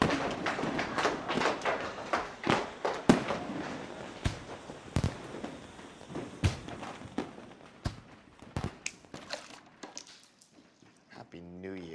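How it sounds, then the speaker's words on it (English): Fireworks explode around New Year's midnight, with many sharp booms and cracks bursting at irregular intervals, some loud and near, thinning out toward the end, under scattered voices. "Hey, fireworks!"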